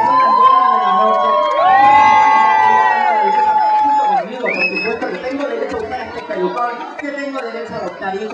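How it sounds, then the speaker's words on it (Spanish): A party crowd cheers, whoops and shouts loudly at a queer fiesta, with children's voices and chatter mixed in, sustained for several seconds before settling into a busy murmur. "un fuerte aplauso para todas ustedes que son las buenas de la noche"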